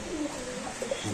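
White racer pigeons at a pigeon market give a soft, close cooing: a couple of short throaty coos over a low background hum.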